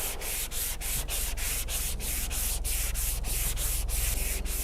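A rapid, even rasp of 180-grit sandpaper worked by hand over the body filler on the passenger-side rear quarter of a CD7 Honda Accord EX, with steady back-and-forth strokes close up and no talking.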